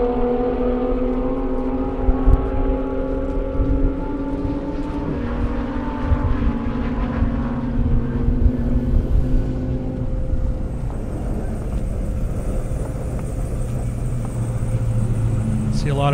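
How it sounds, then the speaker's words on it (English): An Aston Martin races down the runway at the 2023 Indy Airstrip Attack with a sustained engine roar whose pitch sweeps as it accelerates, mixed with other distant cars on the strip. "Got the Aston Martin coming up behind them."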